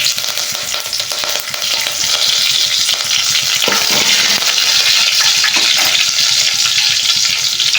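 Cinnamon, fennel and curry leaves fry in hot oil for a tempering, a loud, steady, close sizzle that crackles throughout with a few stirring clinks and no voices.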